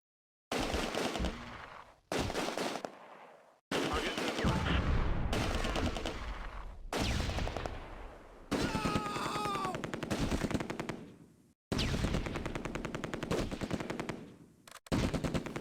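Loud, sustained machine gun and rifle fire in Close Combat: A Bridge Too Far, fighting around Nijmegen bridge and Valkhof Park, arriving in bursts of several seconds broken by short gaps, with whistling shells in one stretch.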